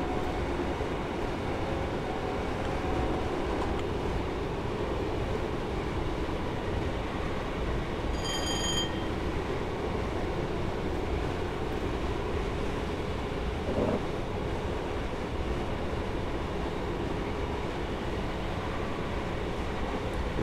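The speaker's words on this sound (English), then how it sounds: "as we reach 60 miles per hour, I'm going to shut off the power to allow the train to coast" A London Liverpool Street to Shenfield train in Train Simulator 2018 coasts at about 60 mph with power shut off, a steady unbroken rumble of wheels and carriage noise, with a brief high tone partway through.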